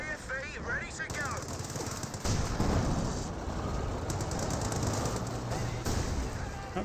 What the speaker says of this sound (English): suppressed by the 50 cal. HMG fire